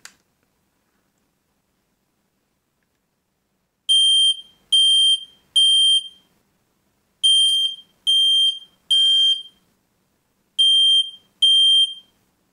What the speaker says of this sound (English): I'm going to hold down the smoke detector